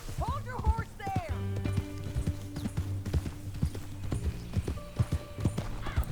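Galloping horse hooves in a Red Dead Redemption 2 ride beat in a steady, quick clip-clop rhythm throughout, with a short whinny-like sound early on and voices talking over it.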